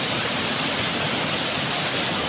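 Water rushes steadily at a Konkan waterfall swollen by the first monsoon rain, a dense, continuous broadband roar that stays loud and unbroken throughout, with no voices.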